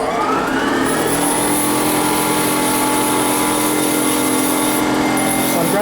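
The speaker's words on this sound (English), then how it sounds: "I'm grinding it down until there's no crack visible or chip visible" A bench grinding wheel sharpens a small twist drill bit with a loud, steady, continuous grinding roar and a high whine that holds for several seconds.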